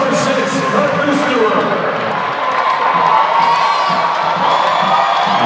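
Loud, sustained roar of a crowd cheering and whooping at a Hawaii men's volleyball match against Tusculum, dense and continuous, with shouts rising above the din.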